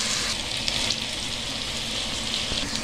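Beef pieces and broth cube stirred in a pot on the stove, a continuous close sizzle and frying hiss with faint scraping of the spoon, no voices.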